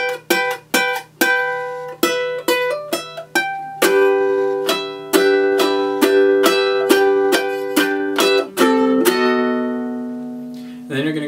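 Guitar solo of a song, played as a run of plucked notes and struck chords with quick decays, then a longer ringing chord at the end; close and clear, no talking.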